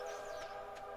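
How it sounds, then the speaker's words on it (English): A train passing in Stardew Valley gives a steady, tonal horn-like drone that holds throughout, with faint brief swells over it and no voices. "The train is passing!"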